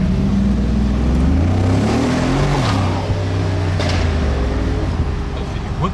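A Mercedes G63 engine revs in the racing game Need for Speed Unbound, with a loud, steady engine drone that climbs and falls through rising tones over six seconds, with a voice faintly present underneath.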